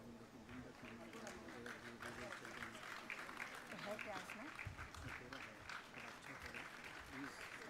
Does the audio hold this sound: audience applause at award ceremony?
yes